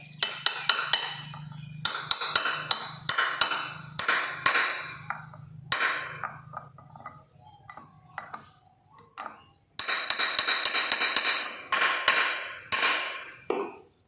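Metallic hammer blows ring out in quick runs, several strikes at a time with short pauses between, close and sharp, driving a bearing into a motorcycle wheel hub with a steel drift.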